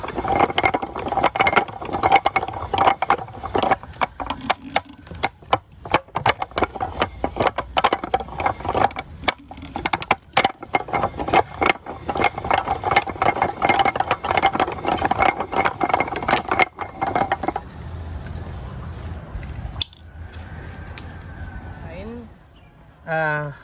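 A hand-cranked wooden cotton gin from Timor in operation makes a loud, rapid rattling clatter of turning rollers and ratchet-like clicks, running continuously before slowing and stopping near the end, with faint voices underneath.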